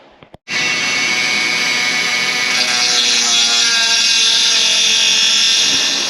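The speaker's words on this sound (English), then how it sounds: "I'm gonna have to Dremel it out with the cutoff wheel and just take my time" A Dremel cutoff wheel cuts away a part near the headlight of a Lexus RC F, starting abruptly with a loud, sustained high-pitched whine that holds steady for several seconds, close up and with no talking.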